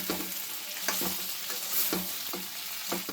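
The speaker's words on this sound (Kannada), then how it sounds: "ಎಣ್ಣೆಲಿ ಚೆನ್ನಾಗಿ ಫ್ರೈ ಆಗುತ್ತೆ" Chickpeas and brinjal fry in oil for sambar, a steady close sizzle punctuated every half second or so by spoon scrapes and knocks as the pan is stirred, no speech.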